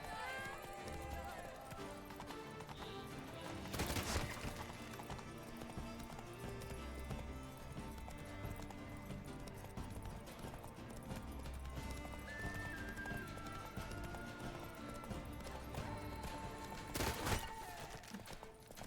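Roach the horse in a video game, galloping with rhythmic hoofbeats throughout and two loud neighs, under intermittent talk.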